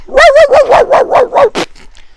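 A dog barks in a quick run of about eight loud, close barks with strained, yelping tone, then a couple of faint trailing yips as it fades out.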